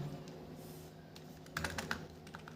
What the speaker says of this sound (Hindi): वी टाइप करेंगे, शिफ्ट के साथ कॉर्नर वाली की दबाएंगे